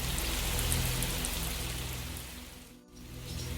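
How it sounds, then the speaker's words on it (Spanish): Steady rain pours down as a dense, even hiss that dips briefly near the end, no distinct thunder clap, no talk. "Esto que estamos escuchando de fondo, este trueno, esta lluvia"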